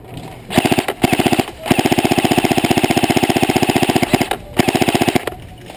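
Rapid bursts of airsoft fire from a G&G F2000 electric rifle during a skirmish at an outdoor field, several long, steady-rhythm volleys with brief pauses between them, loud and close.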